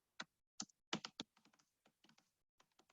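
Typing a search query on a computer keyboard, a quick run of close, crisp key clicks in bursts with short pauses, alone with no talk.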